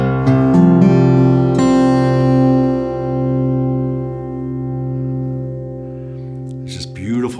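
A single strum on an acoustic guitar of African blackwood and Alpine moon spruce rings out and sustains, its chord slowly swelling and fading with a low hum, before a brief rustle at the end.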